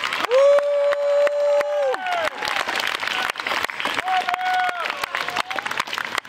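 An audience at a school play at MPS Rastede cheers, claps and whoops loudly in bursts that persist, with a sustained high voice shouting over the applause.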